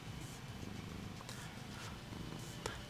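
Steady low rumbling purr from a house cat settled on a mouse pad, continuous and close throughout, with no talking.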